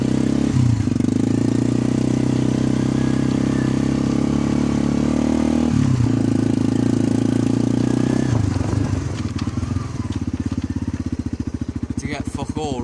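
A Kawasaki Bayou 300 ATV engine runs close and loud in a steady idle, with two dips in pitch as gears change, then a rougher, pulsing chug toward the end.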